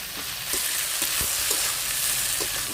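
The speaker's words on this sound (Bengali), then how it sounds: "অনেকটা ভাজা হয়ে গেছে আর একটু ভেজেই আমি এটাকে নামিয়ে দেব" Kharkol leaves fry in a pan with a steady, bright sizzle, punctuated by several soft spatula scrapes and stirs at close range.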